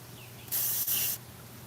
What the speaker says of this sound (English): I'm going to spray it on the inside.